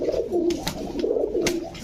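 Pigeons at a Bangladeshi pigeon seller's, including a male calling, give soft, low cooing that rises and falls continuously, close by, with a few brief brighter bursts and no talk.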